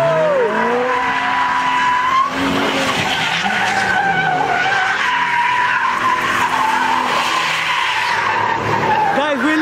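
A Lamborghini and a Rolls Royce do donuts on a shut-down freeway, tires squealing and skidding loudly and continuously, with engines revving and a crowd's voices mixed in throughout.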